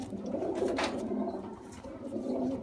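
Black-faced quails and pigeons kept for sale calling in a steady soft cooing chorus, close and continuous, with no talking.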